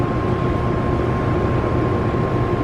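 Corvette engine roaring at full throttle on a dynamometer, a loud, steady, unbroken drone with a constant high whine running through it.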